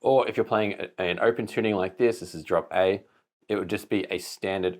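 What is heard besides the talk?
None of the usual background noises is heard.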